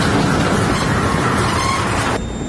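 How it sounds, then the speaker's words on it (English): Loud, steady rumbling and hiss of a train with a faint high squeal, close by, the noise dropping slightly near the end. "I feel like this train's gonna move."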